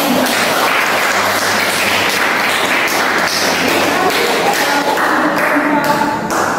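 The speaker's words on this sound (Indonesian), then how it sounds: "Presentasi dari kelompok 2 kita kasih aplaus dulu." Students clap to applaud a group's presentation in a high school chemistry class, a dense, continuous patter of many hands filling the room throughout, fairly loud.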